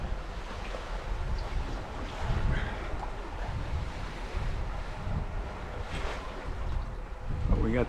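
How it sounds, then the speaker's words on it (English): A sailboat running along the south coast of Fuerteventura under a large code 0 sail, with rushing water against the hull, waves and gusty wind buffeting the microphone in a continuous, fairly loud wash. "Here's some sailing video."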